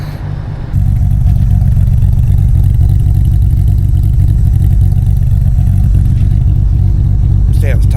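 Holden Monaro CV6 with its V6 engine revving, a deep steady roaring drone held at high RPM, loud and close after a brief quieter start, with a faint chirp at the very end.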